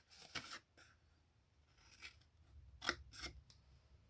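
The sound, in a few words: scissors cutting cardstock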